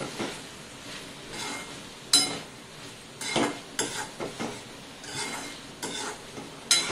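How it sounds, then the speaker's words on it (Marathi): Ivy gourd (tondli) being stir-fried in a pan gives a low frying hiss with intermittent spatula scrapes and a few bright metallic clinks, close and moderately quiet. "भाजीला परतून घेऊया"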